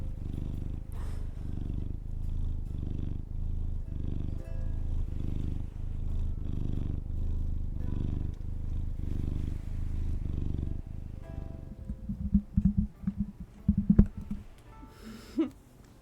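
A cat purrs steadily and up close in a rhythmic, pulsing low rumble, breaking into rougher, irregular snorty sounds near the end.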